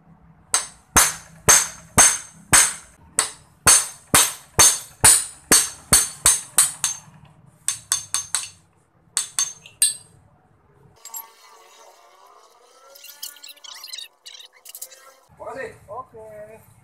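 A chisel is hammered against a nut on a Yamaha MX King 150cc motorcycle: about twenty sharp, ringing metallic strikes in a steady rhythm, then a few looser knocks and faint handling sounds with some low murmuring.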